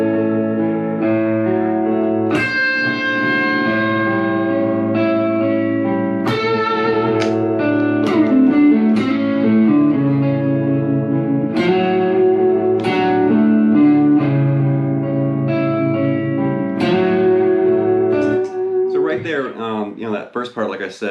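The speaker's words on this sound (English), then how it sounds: "And then you hear him grab this C and he bends that up to the sky." Distorted electric blues guitar playing a lick with string bends pushed up high, notes struck in phrases with effects and reverb, loud and alone with no talking.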